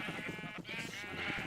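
Sheep in Minecraft bleating in a quick run of short, wavering calls, fairly faint and close together, with no talk over them.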